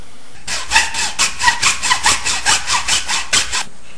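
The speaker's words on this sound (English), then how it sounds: "okay, so I cut the diagonal into it now" A handsaw cutting a diagonal through a pipe for a Splinter Cell goggles prop, with about a dozen rhythmic rasping strokes, close and fairly loud, with no voices.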